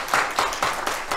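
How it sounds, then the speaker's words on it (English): Church congregation at a Sunday service giving a round of applause, several clapping bursts in a short rhythmic stretch, moderately loud and fairly close. "So let's give them all a round of applause."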